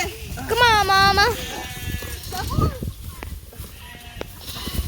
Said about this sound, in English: We're trying to get the puffy sheep in there.